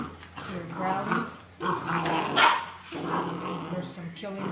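A pack of Otterhound puppies plays rough indoors, growling continuously with sharp barks and yips mixed in, close and busy, while a person talks over the commotion.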